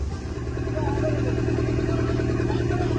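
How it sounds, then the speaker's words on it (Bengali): Steady, close drone of a fishing trawler's engine as the boat moves along a narrow mangrove channel, a constant low throb with no pauses. "তো একদম সরু পথ ধরে এই ম্যানগ্রোভের জঙ্গলের মধ্য দিয়ে কিন্তু আমাদের ট্রলার এগিয়ে চলেছে"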